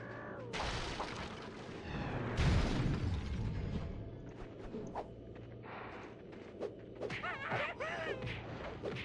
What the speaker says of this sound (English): I think it was the explosion that actually killed this dude.